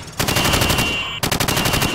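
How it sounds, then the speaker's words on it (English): A rifle fires from the hip in Call of Duty Modern Warfare in two rapid bursts of loud, close automatic shots separated by a brief pause, with no talking. "Now, shoot at the targets while firing from the hip."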